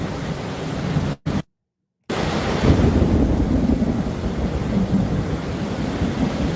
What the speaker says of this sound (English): Starts off with a loud thunder.